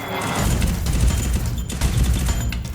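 Rapid bursts of gunfire from the video game Free Fire, with an UMP gun in use, rattle almost continuously at close range and high volume, forming a dense fusillade.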